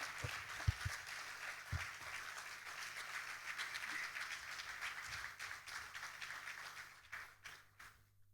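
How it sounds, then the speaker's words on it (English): A conference audience claps at length to welcome a keynote speaker, former President Ameenah Gurib-Fakim. The applause sounds distant and reverberant, with a few sharp nearby claps at the start, then eases off toward the end. "Let's join me in welcoming with a very resounding applause Dr. Bibi Ameenah Gurib-Fakim."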